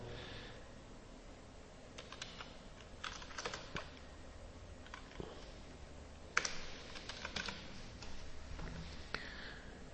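Someone types a password on a computer keyboard during a Ubuntu 14.04 software installation, producing quiet scattered clusters of key clicks with pauses between bursts, close and faint.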